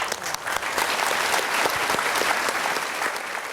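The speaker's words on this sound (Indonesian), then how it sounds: "tepuk tangan untuk Pak Unsa" A seminar audience gives a short, full round of applause, many hands clapping densely and evenly at close range, with no speech over it.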